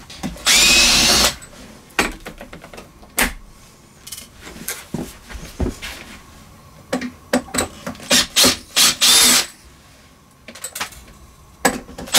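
A power tool trims wood on a hide-away TV cabinet under construction, producing loud bursts of cutting noise with stretches of rubbing, rasping and handling sounds between them, close up and without speech.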